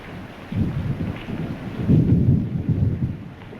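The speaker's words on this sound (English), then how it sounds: "Look, rain. Well, it's the usual summer shower." Thunder rumbles low and heavy through a summer rain shower, the rolling booms swelling twice over a steady hiss of falling rain, with no voices.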